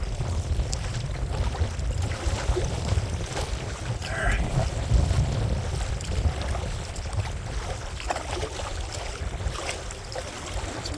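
Steady headwind of about 20 miles an hour buffets the microphone while paddling a kayak on open water near Smith Point, Virginia, a constant rough roar with faint water sloshing underneath.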